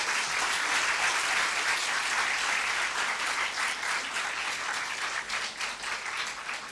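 Sustained applause from an audience at a talk on yoga for sleep and insomnia, dense steady clapping that holds loud throughout and thins slightly toward the end, with no voices over it.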